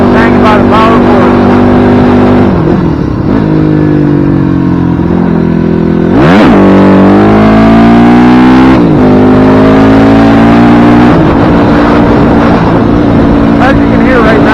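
A 2006 Yamaha WR250F dirt bike engine drones loudly at a steady 50 mph, pitch rising and falling slightly with throttle changes, close and continuous with wind noise.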